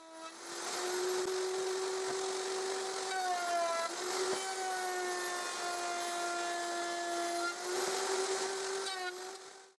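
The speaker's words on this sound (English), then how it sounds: "With this simple woodworking jig, I can route tenons with the router table." A router table with a jig cuts tenons into wood, giving a loud, steady high-pitched whine that holds for the whole stretch and dips briefly in pitch a few times as the bit bites into the stock.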